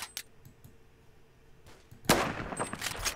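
Sporadic gunshots from a distant long-range exchange in the Roblox shooter Phantom Forces, a few faint sharp cracks followed by a louder burst of rapid fire near the end.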